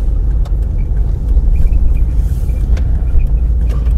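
Car driving around a roundabout on a Folkestone driving test route, heard as a steady, close, low engine and road-noise rumble with no talking.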